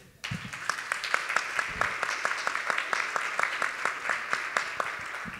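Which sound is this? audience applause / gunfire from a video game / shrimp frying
audience applause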